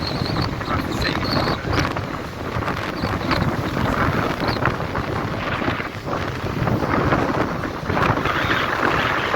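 Strong wind buffets a microphone on Chesil Beach beside an extremely rough sea, a loud, continuous roar with gusting swells and surf rumble underneath.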